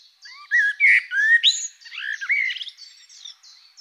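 A common blackbird sings alone, a clear, close phrase of fluting, warbling whistles and quick chirps delivered in a few bursts over nearly four seconds against a silent background.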